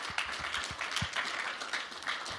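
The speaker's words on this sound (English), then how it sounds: "A round of applause for everyone up here on the stage." Audience applause at a boxing press conference, a steady wash of many hands clapping at moderate loudness with scattered sharper claps throughout.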